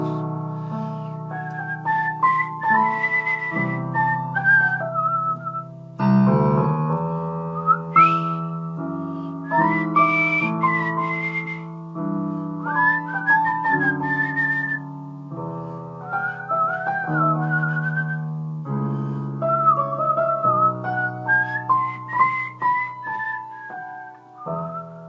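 A person whistles a melody solo and close, a clear, sustained tune with gliding pitch changes and short phrase breaks, no talking.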